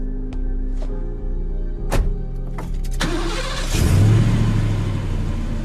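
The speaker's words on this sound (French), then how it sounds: "Je parle du moteur, je voudrais que tu le mettes en route." A car engine cranks with a few sharp starter bursts, then catches and runs with a rising rev, loud and close, with no voices over it.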